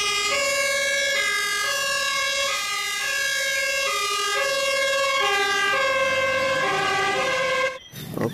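A toy fire truck's two-tone electronic siren alternates steadily between high and low pitches, loud and close, ending with a brief clatter.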